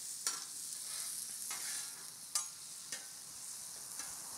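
Carrots fry in regular olive oil on a Blackstone griddle while being stirred, a steady high sizzle broken by several sharp scraping strokes of the spatula at irregular intervals, close and without talk.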